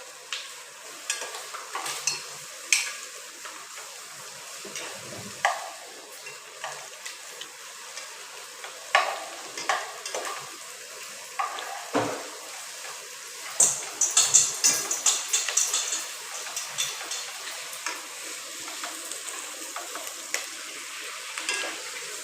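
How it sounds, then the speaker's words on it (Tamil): Mushroom biryani ingredients are sautéed in a pan with a soft ongoing sizzle and repeated irregular scrapes and clinks of the spatula, busiest midway, with no voices. "லோ பண்ணி வச்சு வதக்கணும் தம்பி"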